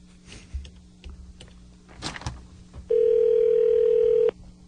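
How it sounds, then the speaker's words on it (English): A phone call starts with faint rustling and small clicks, then a single steady ringback tone sounds for about a second and a half before cutting off. "So we get a ring."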